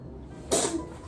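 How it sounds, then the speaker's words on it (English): A single person's sneeze bursts out loud and close, a short sharp explosive blast standing out against a quiet room. "You just sneezed all over your mother"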